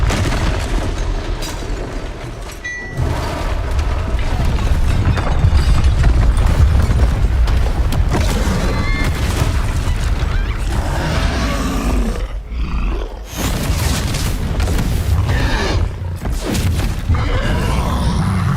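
A Bombarda blasting spell from Hogwarts Legacy erupts amid loud, sustained game action, with roaring, booming bursts layered over a thick rumble that briefly drops out before surging back.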